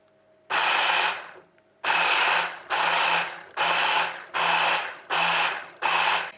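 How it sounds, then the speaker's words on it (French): A blender whirs in bursts, one long pulse followed by six shorter, evenly spaced pulses, as it purées a tomato and onion sauce, loud and close with no talking. "Je vais la mixer et puis je vais voir ce que ça donne."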